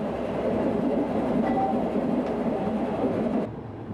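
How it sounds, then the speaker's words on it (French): A small mountain steam locomotive of the Le Vivarais railway coasts downhill, giving a steady near rumble with a faint rail ring and clatter that fades slightly toward the end. "Un instant de répit pour Jeannot et sa machine, qui se laisse couler jusqu'à Montfaucon"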